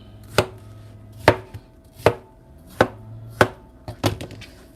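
Parsley being chopped with a knife on a cutting board for a Greek-style watermelon salad: six crisp, evenly spaced knife strikes, close and clear, with no talking.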